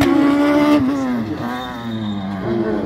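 A Dallara 387 race car at an autos slalom in Ancenis, its engine loud and close with a steady high revving note that dips and climbs as it shifts and accelerates through the course.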